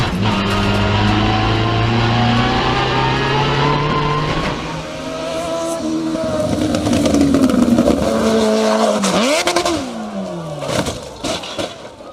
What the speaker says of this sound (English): hitting the brakes and round into the straw